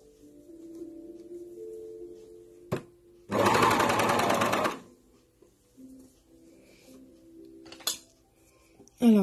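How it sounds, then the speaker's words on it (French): A sewing machine stitches a seam on a black sleeve in one loud, close burst of about a second and a half, surrounded by quiet handling clicks and soft rustles. "là je vais faire ma couture sur cette manche"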